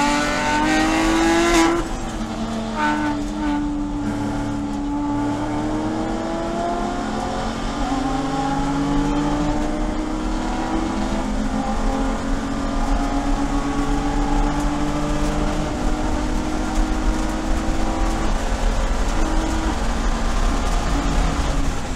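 BMW Spec E46 race cars come through a corner at Sebring in an SCCA Super Tour race, several engines droning and shifting together at steady loudness, with overlapping pitches rising and falling as the pack passes.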